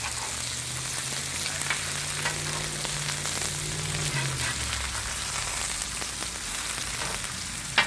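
Chicken pieces for chicken parmesan fry golden brown in a pan, giving a steady, close sizzle that holds at an even level with faint stirring crackle and no talk.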